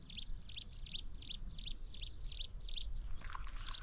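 Birds on a misty hilltop on a Vizag hill trek sing a steady run of bright, repeated chirps at an even rhythm, fairly clear over soft outdoor background noise, with a rougher call coming in near the end.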